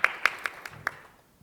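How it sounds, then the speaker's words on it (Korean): Audience applause at a disability forum session, heard as a few distinct, evenly spaced claps that quickly thin out and fade to near silence. "큰 박수로"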